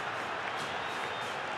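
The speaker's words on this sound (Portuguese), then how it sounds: "arranca vaias da torcida do Palmeiras, arranca vaias também da própria torcida do Grêmio" Football stadium crowd at a Copa do Brasil 2012 semi-final between Grêmio and Palmeiras, a loud sustained roar of jeers and whistles filling the air after a shot sails wide, steady and dense throughout.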